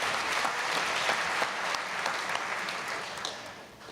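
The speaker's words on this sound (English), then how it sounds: "please give yourself a round of applause" Audience at a 2017 Cowichan Valley all-candidates debate clapping steadily throughout, a dense patter of many hands in a hall that tapers off slightly toward the end.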